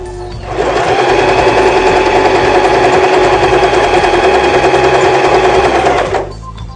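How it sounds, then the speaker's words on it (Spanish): A Janome 2012 domestic sewing machine runs a zigzag stitch, a steady close rapid mechanical whirr starting and stopping cleanly over about six seconds, with no voices. "Ahora vamos a hacer una costura en zigzag disminuyendo el ancho de puntada."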